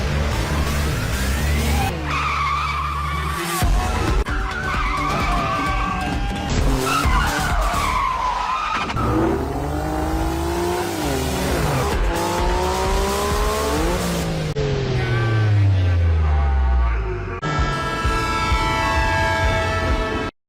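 Tires skid and squeal as cars race in a film chase scene, with revving engines, sharp cuts between loud screeches and a rising whine near the end.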